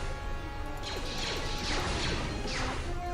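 A trip mine blown up in Jedi Knight: Jedi Academy: several sharp crashing blasts with metallic mechanical clatter, spaced about a second apart over a steady background hum, moderately loud.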